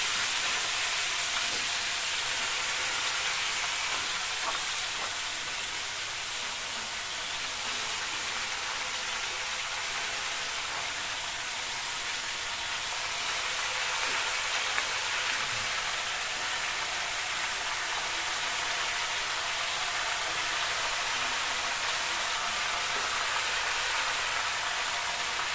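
Hot cooking oil sizzles in a pan with a dense, continuous hiss, close and steady without letup for the whole stretch.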